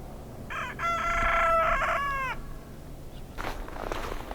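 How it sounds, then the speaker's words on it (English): A young rooster crows once nearby in the morning, a loud drawn-out call lasting about two seconds, followed by softer clucking and rustling after a short pause. "our rooster finally decided to crow this morning"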